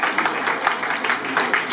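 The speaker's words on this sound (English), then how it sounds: "Round of applause for the GF." Applause at a testimonial charity auction, honouring a bidder: a brisk run of clapping from a room of people with a few sharper claps poking through, moderately loud and with no voice over it.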